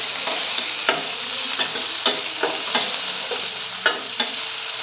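Sliced onions sautéing in hot oil with fennel seeds and curry leaves for a murrel fish curry, a steady bright sizzle broken by regular scraping strokes of a spoon stirring the pan.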